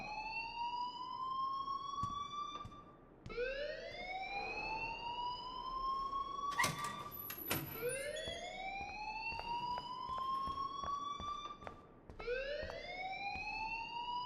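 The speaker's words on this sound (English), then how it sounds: "please turn off that alarm since that's your job" A fire alarm wails in the video game Life Is Strange, with about four loud rising whoops, each sweeping upward and then repeating, mixed with scattered sharp clicks.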